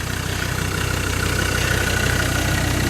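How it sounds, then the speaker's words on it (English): A string trimmer's small engine idles steadily on a dirt track with a low, even chugging pulse and constant mechanical hiss, unchanging throughout. "That engine sounds wonderful."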